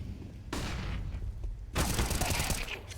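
Bursts of MP9 submachine gun fire in a CS:GO match, one short volley then a denser, louder sustained spray, up close with game ambience.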